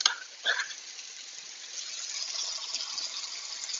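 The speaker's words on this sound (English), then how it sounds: "Now comes our canned tomatoes." Canned tomatoes pour from the can into a cooking pot for slow-cooked beef, a brief wet splash followed by a steady, close liquid gush that runs on without speech.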